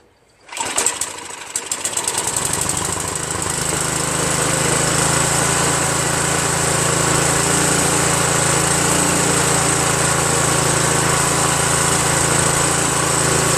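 A Craftsman 5.5HP OHV snow blower engine catches after a pull and settles into a loud, steady high-pitched running drone close by, with no talking.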